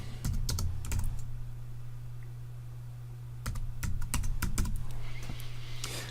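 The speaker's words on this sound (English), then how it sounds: "I'll click and I'll type my name." Keys on a computer keyboard are tapped nearby in two short bursts with a pause between them. The clicks are quick and slightly irregular over a low, steady hum.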